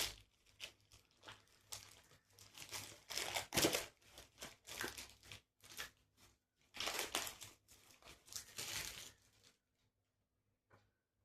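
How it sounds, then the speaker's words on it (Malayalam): Packaging of a jewellery set being unboxed: bursts of crinkling plastic and paper handling, rustling and tearing in irregular close-up clusters, then falling quiet near the end. "ഓക്കെ, ഇത് അൺബോക്സ് ചെയ്യാം കേട്ടോ."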